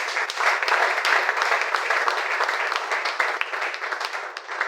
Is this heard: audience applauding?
yes